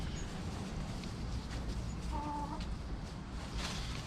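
Hens in a backyard chicken coop cluck softly in a brief run of low, repeated calls midway, heard over a steady noisy outdoor background with no talking.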